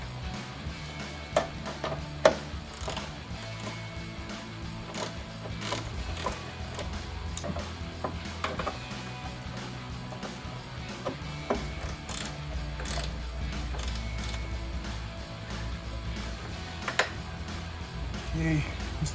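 A ratchet tightens M8 bolts on Go Rhino RB20 running boards fitted to a Jeep Wrangler JL. Faint, irregular clicking pawl ticks run throughout, with scattered knocks and a low background hum, under occasional talk.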